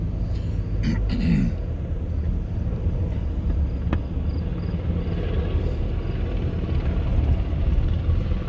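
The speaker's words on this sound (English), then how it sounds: "You can hear that helicopter again circling around" A helicopter circles over side streets in North Smithfield, a continuous low rumble that drones steadily throughout at moderate loudness.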